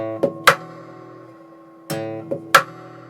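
Fingerstyle electric guitar playing a main riff: thumbed low bass notes punctuated by plucked chord stabs, in a sparse, loping pattern heard close and alone.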